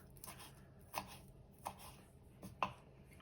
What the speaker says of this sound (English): I'm just giving the parsley a quick chop.